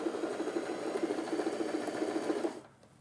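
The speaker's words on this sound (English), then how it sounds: "to sew this button on, all I've got to do is about 20 or 30 stitches" An Alfa Style sewing machine stitches a button on with a steady, rapid mechanical whir of about 20 to 30 stitches, a close and even motor hum that cuts off sharply near the end.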